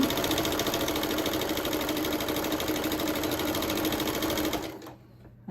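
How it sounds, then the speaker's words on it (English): A sewing machine runs steadily, back stitching at the end of a seam on a small charm-pack quilt, a fast even whir close by that stops abruptly near the end. "And I back stitch there at the end too."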